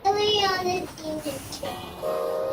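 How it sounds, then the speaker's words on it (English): A train passing on a Minecraft server, heard as a continuous rumbling pass with tonal, whistle-like layers rising and falling over about two and a half seconds, fairly loud and without speech. "yeah, here's the train."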